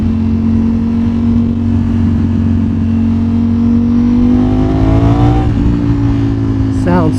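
A BMW S1000RR superbike engine idles loud and close with a steady tone, then rises in pitch as it revs near the end.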